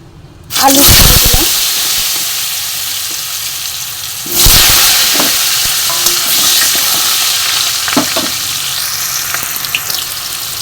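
A sudden loud hiss as small potatoes hit hot oil left from frying eggs, settling into continuous crackling sizzle with a second burst midway and light stirring noises.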